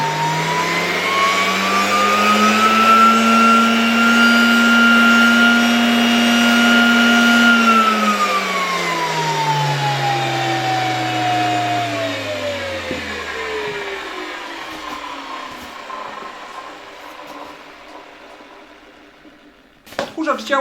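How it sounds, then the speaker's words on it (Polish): A homemade vacuum cleaner built from cardboard and socks runs with a loud, steady motor whine that holds, then winds down in falling pitch as it slows to a stop, with handling noises at the end. "Jak widzicie, odkurzacz działa, tędy wchodzi powietrze"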